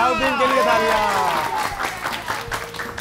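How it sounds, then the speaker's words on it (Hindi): A studio audience at an evening Eid television broadcast claps in a burst of applause, with a voice speaking over the start before the clapping carries on alone and thins out. "जाउद्दीन के लिए तालियां।"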